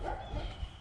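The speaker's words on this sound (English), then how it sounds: "Sorry for the dogs barking in the background." Dogs barking in the background at a distance, under a steady outdoor noise bed with a faint high tone, muffled and indistinct across the short stretch.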